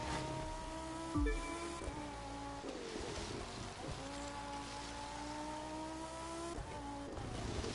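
A powerful Bugatti W16 engine in The Crew 2 racing game drones and revs through gear changes, its pitch climbing and dropping repeatedly, with a brief thump partway through.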